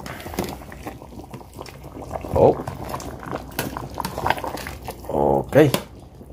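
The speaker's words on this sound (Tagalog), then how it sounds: "Kulong-kulong na, mga gala." Sinigang soup with a large tuna head bubbling in a pot, a steady low simmer with a few louder gurgling bursts, heard under a person talking.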